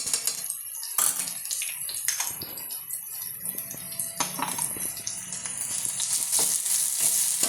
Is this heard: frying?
yes